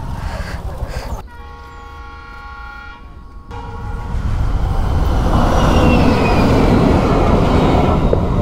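A lone railway locomotive engine passing a level crossing, its sustained horn sounding for a couple of seconds before a loud, rising rumble of the engine rolling past close by.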